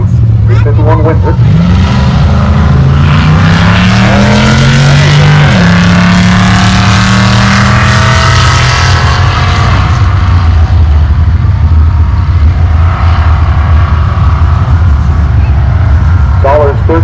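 A 1983 Ford Mustang drag car with a 351 Windsor V8 roars at full throttle, pitch climbing through gear changes, then a long loud engine drone at a drag strip, with a commentator speaking over it.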